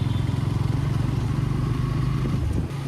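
A motorcycle on a ride toward Hadshi temple in Mulshi, near Pune, holds a steady, droning engine note with constant wind rush, loud and close, with no talk.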